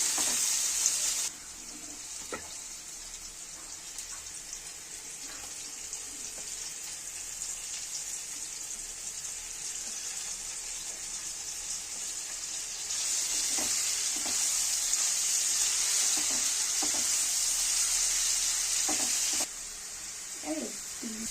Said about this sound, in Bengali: এই যে আমার চাউমিনের সবজি সব ফ্রাই হয়ে যাচ্ছে।